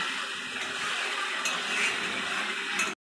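Cooked mutton curry is stir-fried in a pan, a close, continuous sizzle with scraping stirs and light clatters of a spoon against metal, ending abruptly.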